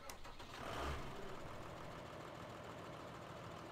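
Claas Axos 330 tractor engine in a farming simulator game cranking and catching near the start, then settling into a steady low idle that continues to the end, heard alone.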